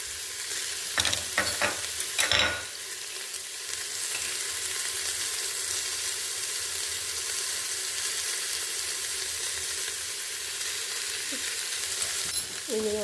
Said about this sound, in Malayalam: ഇത് നന്നായിട്ട് വഴറ്റിയെടുക്കണം.